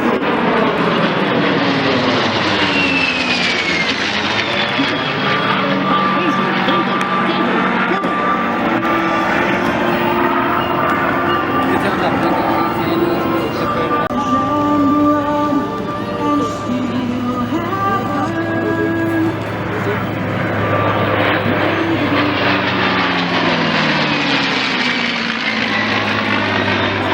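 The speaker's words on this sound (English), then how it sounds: "Leading today's formation is a World War II era B-51 Mustang" A World War II era Mustang leads a heritage flight formation of propeller aircraft at an airshow, with loud piston engines droning and shifting pitch as they pass overhead, then sweeping in again toward the end.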